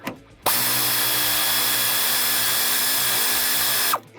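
A Cyclone thru-hole power ratchet whirs steadily as it backs off an adjustment on a farm combine, starting abruptly and running for about three and a half seconds before stopping.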